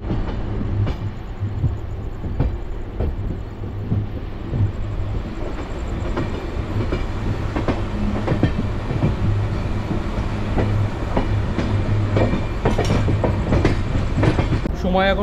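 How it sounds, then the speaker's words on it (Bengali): Puri to Kolkata train 12836 Shalimar running at night on the tracks in Odisha, with a steady loud rumble and repeated clickety-clack of wheels over rail joints throughout. "এই দিক থেকে ট্রেনটা বেরিয়ে গেল, এবার আমাদের ট্রেন ছেড়েও দিল"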